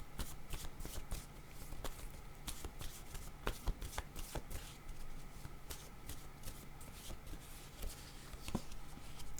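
Playing cards being shuffled during a tarot-style card reading, a steady run of crisp riffling and flicking snaps up close, with no voices.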